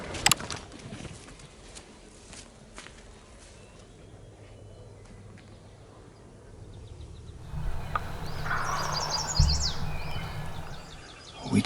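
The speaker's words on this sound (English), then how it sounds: "We just had a turkey gobbling off in the distance" Quiet outdoor ambience in Michigan with faint bird chirps, then a wild turkey gobbles far off, its rattling call rising briefly before fading.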